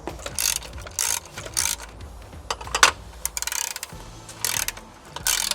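A ratchet wrench loosening an existing bolt while a Holman drop-down ladder rack is fitted to a Ford Transit van, giving several quick clicking bursts with pauses between, close up, with no talking.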